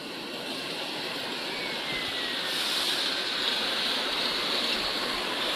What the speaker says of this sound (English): You can see the water in bubbling.